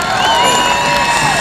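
Crowd cheering and whooping at an outdoor softball tournament in Kennedy Park, Chicago: a loud, continuous wash of voices with high shouts and children's cries, no single voice standing out.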